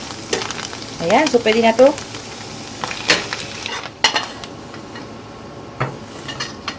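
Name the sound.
stir-frying vegetables with garlic in sesame oil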